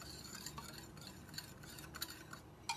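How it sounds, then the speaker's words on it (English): A whisk beats water into dry ingredients in a bowl, giving a faint, rapid, continuous scraping and clicking against the sides, quiet and close with no voices. "Just keep whisking it up."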